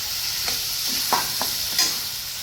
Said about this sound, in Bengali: আমাদের সয়াবিন কড়াইতে চলে গেছে